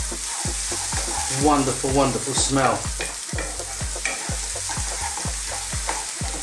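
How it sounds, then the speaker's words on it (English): Onions and curry leaves sizzling in hot oil with regular scraping stirs in a pan, while a person speaks briefly over the frying. "I just love onions, curry leaves, frying them."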